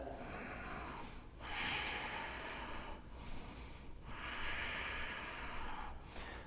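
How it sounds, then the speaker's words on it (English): Ujjayi breathing during a yoga pose: slow, loud throaty breaths through the nose in a steady rhythm, each long airy rush alternating with a short pause, close and alone with no talk. "Ujjayi breath."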